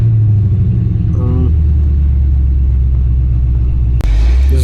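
A 1990 K5 Blazer engine idling with a loud, steady low rumble that wavers unevenly, with a brief dropout and a sharp knock near the end as it stumbles.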